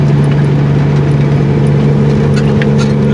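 A loaded dump truck at full throttle climbs a highway grade, its engine a loud, steady low drone with a strong fundamental hum and constant mechanical roar throughout.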